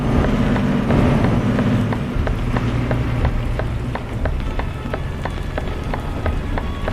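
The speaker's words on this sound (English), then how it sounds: "Still coming down, you still hear them. But instead of being like slushy rain, like snow, it's gone proper rain." Steady rain falls on a truck cab in Euro Truck Simulator 2, a dense, continuous patter with rhythmic ticking from the windshield wipers, loud and close over a low engine hum.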